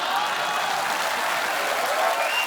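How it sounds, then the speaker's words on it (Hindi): Studio audience applause and cheering on The Kapil Sharma Show, a dense steady wash of clapping from a large crowd, loud and sustained throughout. "कुछ भी नहीं कहना फिर भी ताली और हंसी"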